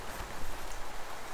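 Heavy rain in a storm drums on a camping tent with a steady, dense patter, a soft continuous hiss with no voices.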